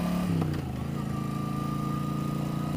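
A 1988 Yamaha XV1100 Virago V-twin motorcycle idles steadily as it warms up, a loud, close, even low throb with a faint whine above it and no talk.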